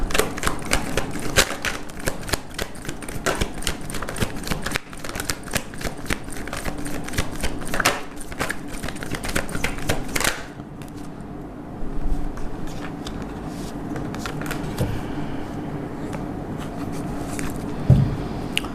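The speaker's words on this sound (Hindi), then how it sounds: "एक ही शफल करेंगे, जिस भी कार्ड को आना है वो आ जाए" Tarot cards are shuffled by hand in a rapid, dense clatter of riffling clicks for about ten seconds, then the handling turns quieter and sparser, with no talking.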